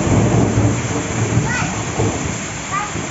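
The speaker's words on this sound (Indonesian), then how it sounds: "Dis hujan, Dis" Heavy rain pours steadily in Purwakarta, a dense, close hiss with thunder rumbling low underneath, and voices murmur faintly through the downpour.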